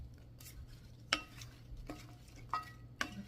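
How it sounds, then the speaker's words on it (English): A spoon stirs fruit salad dressed with lemon juice in a bowl, making quiet soft scraping with several sharp clinks against the bowl and no voices. "And we're going to stir this up."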